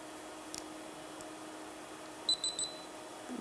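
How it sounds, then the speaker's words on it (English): A RunCam camera powering on gives a quick cluster of three short, faint, high-pitched beeps over a quiet hiss. "but you can hear it, a low beep."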